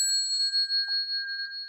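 A bell struck during Buddhist sutra chanting rings out with a clear, sustained metallic tone that hangs steadily without fading much.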